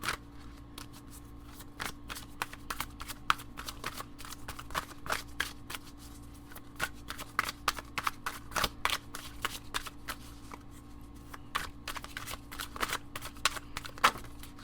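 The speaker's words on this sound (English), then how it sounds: "the whole time that I was shuffling the cards" Tarot cards being shuffled by hand in a steady series of soft, crisp riffling snaps and flutters, close and fairly quiet over a faint hum.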